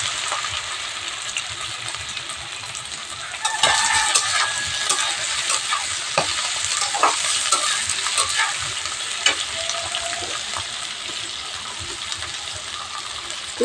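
Ivy gourd frying in hot oil with dried green chilies, a loud continuous sizzle that jumps up after a few seconds, broken by repeated clinks and scrapes of a stirring spatula against the pan.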